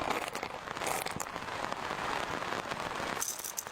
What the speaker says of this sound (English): Outside, the rain keeps falling endlessly.